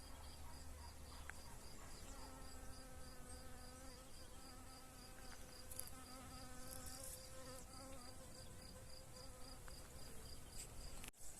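Honeybees swarming around two busy hives on a small homestead, a dense, continuous buzz of many insects with individual bees droning past, steady and fairly faint.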